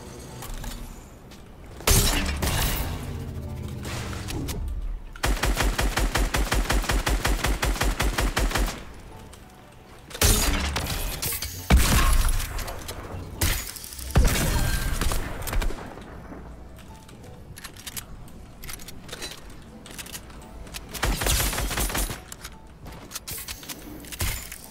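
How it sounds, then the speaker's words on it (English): Kit's launcher weapon firing in Fortnite, heard as loud bursts of rapid repeated shots with sharp blasts and shattering impacts scattered across the stretch, mixed with other game effects. "Oh, that's Kit's launcher too"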